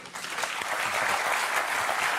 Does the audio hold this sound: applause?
yes